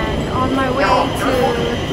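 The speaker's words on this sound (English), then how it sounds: "Now I'm back, catching a tram," Inside a moving tram in Stockholm, a steady loud rumble of wheels and motor with tonal whine and rattling fills the whole stretch, with talk mixed in.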